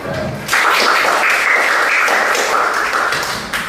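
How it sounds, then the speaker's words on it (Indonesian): A short burst of clapping from a primary-school class fills the room, dense and steady for a few seconds before tapering slightly. "Bisa tepuk tangan dong."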